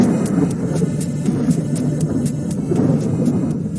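Rolling thunder rumbles steadily with rain in an indoor room, a loud continuous low roar broken by regular sharp crackles, with no voices.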